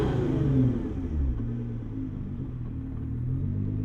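Revving of a 2012 Nissan GT-R R35 engine at close range: the deep rumble rises and falls through a couple of blips before easing back toward a steady idle.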